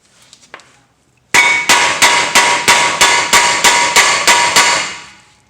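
Hammer strikes on an Acura RSX Type S lower control arm, about ten sharp metallic blows at a steady rhythm, loud and close, with no talk over them.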